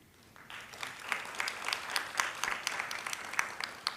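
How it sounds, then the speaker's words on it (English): Audience at a quantum computing symposium breaks into applause, building from quiet to steady dense clapping that lasts several seconds in a hall. "thank you so much for your generous applause and encouraging this team."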